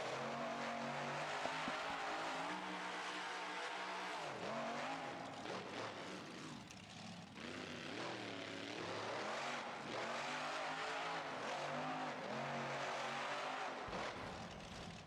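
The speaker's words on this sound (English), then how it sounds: "this is a all-new Hemi engine. The 555 cubic inch BDS blower equipped Hemi." A 555 cubic inch BDS blower-equipped Hemi engine in BeamNG.Drive drones loud and continuous, its pitch rising and falling through revs with a brief dip midway, no talking over it.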